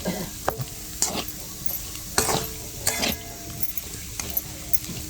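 Matki usal, a village-style sprouted moth bean curry, being stirred and mixed in a pan: repeated scraping strokes in an uneven rhythm over a soft background sizzle, close and fairly quiet.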